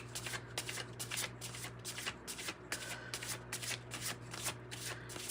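Tarot cards being shuffled in quick, regular riffling bursts, close up, over a faint steady hum.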